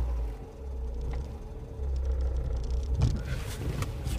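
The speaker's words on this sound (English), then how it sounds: "Little old Ford Ka." A small Ford Ka car driving along a UK country road near Lakenheath, with a steady low engine and road rumble throughout, rising slightly in the second half.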